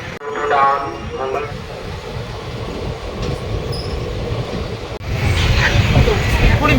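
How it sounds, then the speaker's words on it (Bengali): The Howrah–Mumbai passenger train rumbles past close by near Durgapur, a broad steady roar of wheels on track that swells louder toward the end, with faint higher squeals above. "এই ট্রেনে হাওড়া মুম্বাই মুম্বাই থেকে ছেড়ে আসছে হাওড়া দিকে যাবে"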